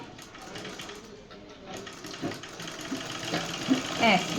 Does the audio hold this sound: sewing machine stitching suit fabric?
yes